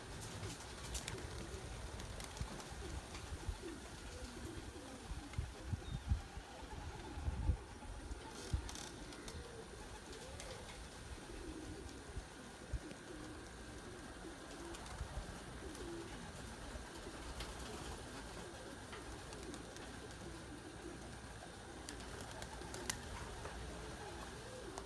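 Pigeons coo softly outdoors among a large flock settled on a warm day, low murmuring calls repeating throughout over faint background noise.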